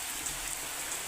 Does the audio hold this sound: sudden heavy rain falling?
yes